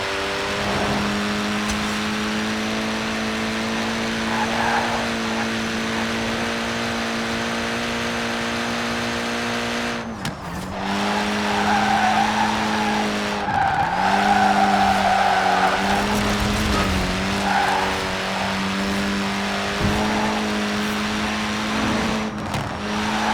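Mini Cooper S racing in Forza Horizon 4, its engine droning steadily with gear changes and bursts of tyre squeal and skidding, loud and close with no talk over it.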